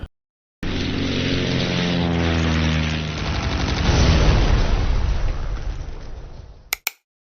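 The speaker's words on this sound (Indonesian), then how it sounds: "Grisa, kekasih dari Masha, merupakan seorang pilot pesawat tempur, mengusir dan menghancurkan pesawat musuh" Fighter plane attacking enemy aircraft in a World War II film: a loud, sustained propeller engine drone with shifting pitch, overlaid by rapid bursts of machine-gun fire and explosions, ending in a couple of sharp cracks.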